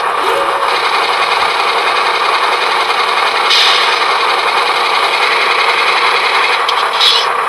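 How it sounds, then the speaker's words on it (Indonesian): Roco Z21 DCC-controlled model locomotive running its air compressor sound effect, a steady continuous hiss and hum with faint brief clicks, playing on its own without talk. "Air compressor itu kalau di lokomotif untuk menghasilkan udara, tekanan udara untuk mengoperasikan rem kereta api."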